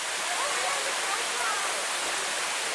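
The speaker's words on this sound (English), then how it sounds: "all the streams and waterfalls, and it's just lush over here" Appalachian waterfall pouring steadily, a loud, dense, close roar of rushing water that holds even from start to finish.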